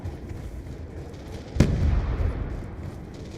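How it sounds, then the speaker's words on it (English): A single sharp grenade blast bursts out in a Call of Duty: Black Ops 2 Zombies match on the Origins map, followed by a short rumbling tail over low background game noise. "Grenade!"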